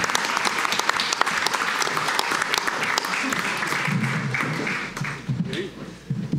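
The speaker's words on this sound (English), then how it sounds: "Give Chris a round of applause." Sustained audience applause at a live panel event fills the whole stretch, dense and loud, with voices talking and cheering faintly beneath it toward the end.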